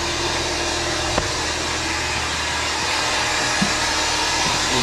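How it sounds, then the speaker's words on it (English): An air compressor runs in a workshop, a steady loud broadband whooshing hum that holds level throughout, broken only by a couple of faint clicks. "There's the compressor."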